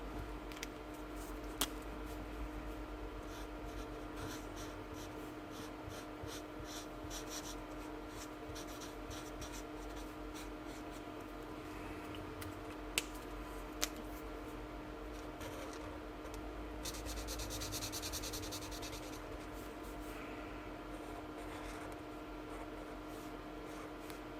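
Colored pencil scratching semicircles onto paper, a steady soft rubbing and scraping that runs throughout at close range with no talk.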